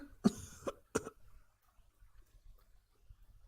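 Two or three sharp coughs close by in quick succession, followed by a quiet stretch of faint low rumbling.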